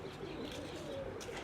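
Pigeons coo softly in a domestic loft, low murmuring calls repeating under faint background noise, with a few brief chirps.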